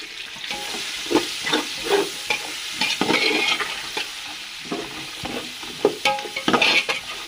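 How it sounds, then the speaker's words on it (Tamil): Whole spices for beef biryani roast in a hot pan, a steady close sizzle broken by repeated scraping and stirring strokes, with no voices. "ஸோ இது எல்லாமே நல்லா ரோஸ்ட் ஆகுது ஃப்ரெண்ட்ஸ்."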